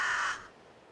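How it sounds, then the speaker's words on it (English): A raven gives one harsh, loud caw in the video game Bullet Witch, close up and alone, then fades quickly into quiet background. "Just a raven."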